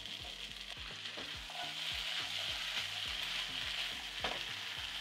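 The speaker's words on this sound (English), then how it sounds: "Add the beans into the pot." Cooked beans sizzle and fry in a pot with carrots, with repeated scraping stir strokes in a steady rhythm, close up and fairly quiet, no voices.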